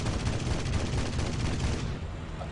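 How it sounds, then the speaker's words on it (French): Aircraft cannon fire in the War Thunder game, a loud rapid burst of heavy shots hammering in quick succession for about two seconds before cutting off. "Donc là on va tout voir la puissance de ce canon."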